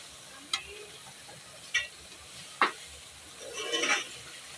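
Bottle gourd and meat curry being stirred in a pot over very low heat, with a few sharp spoon scrapes spaced out over a faint simmer, then a longer rustling stir at the end.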